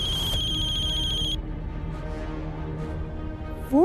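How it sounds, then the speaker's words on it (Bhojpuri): An electronic phone ringtone trills steadily, then cuts off, leaving a low background hum before a rising tone sweeps in at the end. "अहिल्या के फोन"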